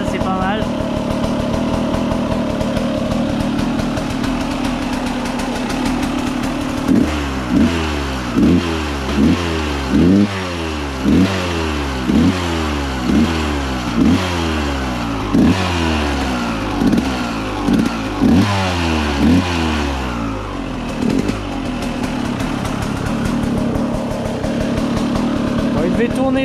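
A KTM 200 EXC two-stroke dirt bike engine revs repeatedly in sharp, evenly spaced bursts over a steady idle, close and loud, with someone speaking at times.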